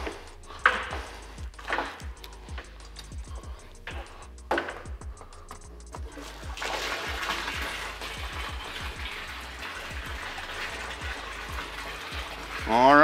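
Water in a homemade recirculating hydroponic reservoir, valves set to mix, starts with a few knocks and clunks, then settles into a continuous rushing, churning flow.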